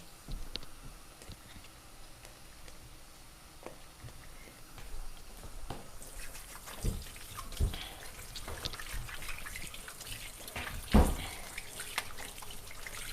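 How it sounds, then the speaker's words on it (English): Hands are washed under a running kitchen tap during home cooking, a soft steady stream that grows busier with splashing and a few louder knocks partway through, with no one talking. "Time to wash my hands."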